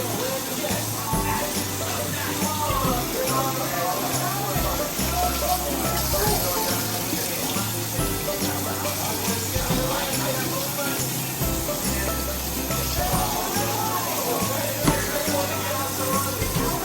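Tap water runs steadily from a kitchen faucet as an eggplant is washed, a continuous splashing hiss lasting throughout with voices talking faintly underneath.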